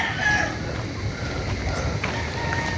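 Chickens at a hilltop chicken house on a farm, clucking and crowing faintly through steady outdoor noise while people talk nearby.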